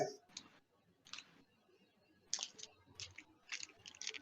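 Someone types on a computer keyboard in short, quiet bursts of clicking keystrokes with brief pauses between, close but faint.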